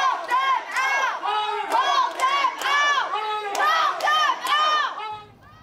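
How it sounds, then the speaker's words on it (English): Crowd at an Aurora city council meeting loudly yelling and jeering in anger after a vote confirming a new police chief, sustained overlapping shouts that cut off near the end. "People yelled things like vote them out and shame on you after a vote approved Chamberlain as police chief."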